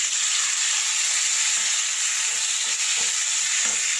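Marinated chicken 65 with garlic paste and masala stir-frying in a pan, a steady loud sizzle throughout with faint stirring scrapes.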